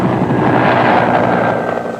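Anti-tank military helicopters from the 1991 Gulf War make a loud, close, rhythmic rotor thumping with a heavy engine roar that fades slightly toward the end.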